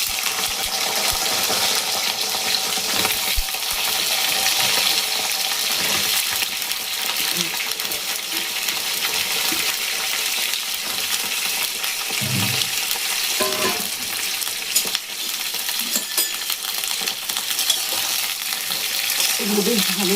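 Halved eggplant pieces fry in oil in a pan with a loud, close, continuous sizzle, broken now and then by clinks and scrapes of stirring. No one speaks.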